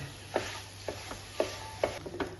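A spoon works through a mashed potato snack mixture in a bowl, giving five or six soft, separate scraping strokes in a quiet room.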